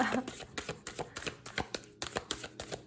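Tarot cards riffle and slap down in a quick run of crisp bursts, several cards tumbling loose, up close and moderately quiet with no clear voice over it.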